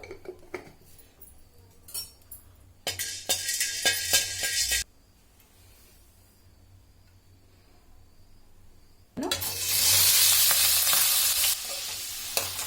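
Spices for chicken pickle sizzle and get stirred in a pan, with two loud bursts of frying and metal scraping separated by a quieter simmering stretch; no voices.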